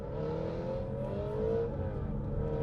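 An Aston Martin CTR engine with an automatic gearbox drones from inside the cabin, a steady, muffled hum that rises slightly in pitch as the car gently accelerates, with no talking.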